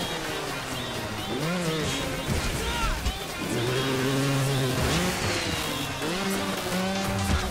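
Trials motorbike engine in the video game Trials Rising, revving continuously with pitch swooping up and down as the throttle opens and closes, punctuated by brief knocks and landings, loud and close throughout.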